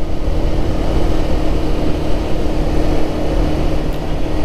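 Bajaj Pulsar Neon 150 motorcycle engine running steadily in fifth gear at about 4,500 rpm and 64 km/h, a continuous loud drone mixed with wind rush and road noise, no pauses.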